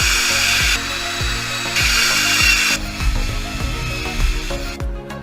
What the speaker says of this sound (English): A brass wire wheel and a drill to finish off the other surfaces.